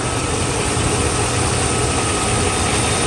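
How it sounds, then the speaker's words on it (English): A Mercedes S500 engine idles with a steady, low rumbling drone, constant and unbroken over a few seconds, heard close up. "No overheat, engine runs good, drives."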